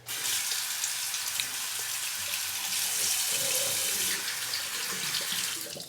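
Tap water runs steadily into a sink during rinsing after a shave, a close, continuous hiss and splash that stays even for the whole stretch before cutting off at the end.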